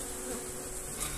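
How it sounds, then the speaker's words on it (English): Bees swarming close around beehives, a dense continuous buzzing that presses right up against the microphone with no pause. "Bees are giving the microphone a load of grief."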